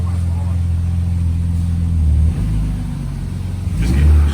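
BMW E36 M3 engine given gas during a clutch replacement: a steady low idle rumble that rises in a couple of short revs toward the end, close by, with a voice talking over it.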